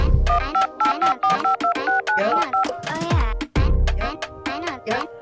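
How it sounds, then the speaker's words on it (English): Short telephone dialing tones beep in a quick rhythmic run over a continuous music bed, with no one speaking during the beeps. "If we can give a phone call and some mood music to Miss Lydia."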